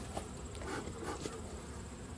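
Honey bees buzzing in a steady, faint drone around an opened hive with a full top super of honey during a fall inspection, a continuous insect hum with no talking.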